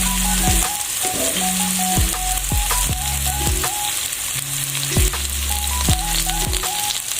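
Spice paste (bumbu) sizzles steadily in a pan for Indonesian sweet and spicy soy-sauce chicken (ayam bumbu kecap pedas), a continuous close frying hiss under melodic background music.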